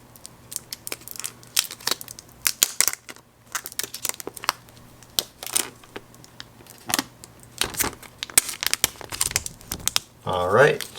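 Protective film peels off a Galaxy Z Flip 3 Phantom Black phone in a series of close crinkling, crackling bursts and sticky rips, uneven and stop-start, with a brief voice near the end.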